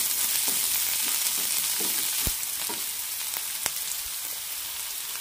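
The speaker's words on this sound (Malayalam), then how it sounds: "മുറിച്ചു വെച്ച സവാള നന്നായി വഴറ്റി കൊടുക്കാം." Chopped onions are sautéed in a pan for a cauliflower and red gram stir fry. There is a steady hiss of frying with soft scraping stir strokes and one sharp tap, close and alone.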